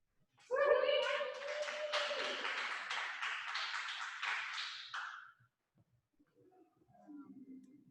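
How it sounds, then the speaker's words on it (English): A small audience at a live poetry café event claps for the next poet, a burst of scattered hand clapping that starts suddenly, holds for about five seconds, then stops, followed by a faint voice. "please put your hands together for the next poet"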